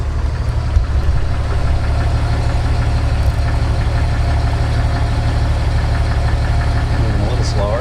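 A vehicle with an Atlas four-speed transfer case rolls slowly in four-wheel drive low range at 3.8:1, giving a steady, loud low engine drone with a faint rhythmic knock, while someone talks over it.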